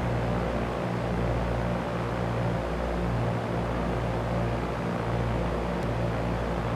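Steady broadband aircraft engine and airflow drone from an airplane descending on approach in the X-Plane flight simulator game, continuous and fairly loud throughout, with no talk.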